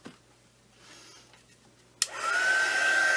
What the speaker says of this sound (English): I'm going to just dry that off.